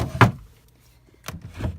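A heavy drawer is opened in a bedroom, giving a sharp wooden thunk, a quiet pause, then two more sliding knocks close by, with no talking.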